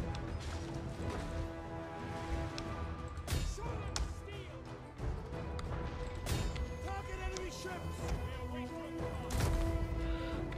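Ramming crashes from the Attila Total War strategy game, a busy stream of thuds, smashes and whacking impacts under a dense battle din, with several sharper crashes standing out over the continuous clatter.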